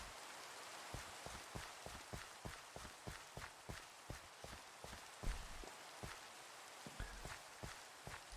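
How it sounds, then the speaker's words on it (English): Rain falling in a block-building video game, a steady hiss of drops with regular soft ticks and taps repeating throughout, heard alone without any talk. "Rain again."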